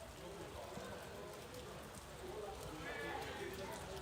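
Raw field recording of rain falling on surfaces, a soft, continuous patter with a dense crowd murmuring and indistinct voices underneath, used as a music sample.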